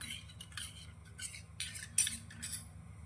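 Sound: spoon stirring masala with water

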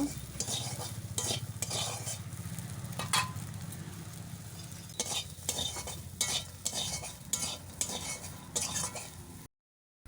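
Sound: stirring and frying soybeans with salt and turmeric

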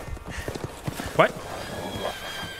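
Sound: horse hooves clip-clopping in video game Resident Evil Village

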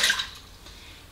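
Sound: pouring water into a mixing bowl

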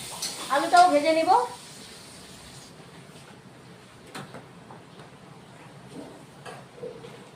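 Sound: potatoes frying in a pan

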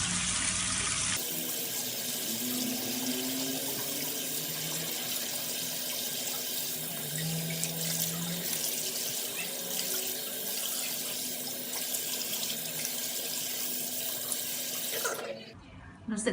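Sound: water running from a tap while washing face

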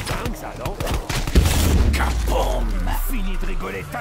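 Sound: explosion in a video game

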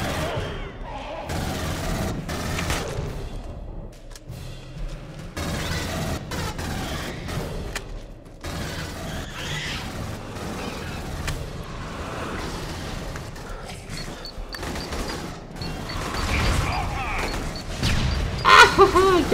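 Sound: gunfire in Aliens: Colonial Marines video game

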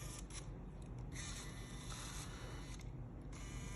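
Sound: Sony Cybershot DSC-W810 camera lens zooming in and out

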